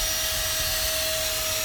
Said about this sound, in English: Got the vacuum going on.